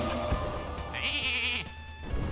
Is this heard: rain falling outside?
no